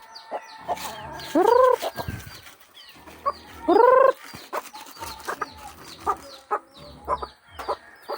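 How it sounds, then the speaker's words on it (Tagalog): Chickens cluck and squawk nearby, with two loud drawn-out calls standing out amid rustling and scattered shorter clucks. "yung mga manok na yun"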